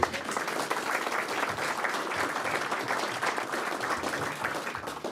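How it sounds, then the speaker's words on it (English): A big, sustained round of applause fills a school district board meeting room, many hands clapping steadily and evenly for several seconds without any speech over it. "Let's give them a big round of applause."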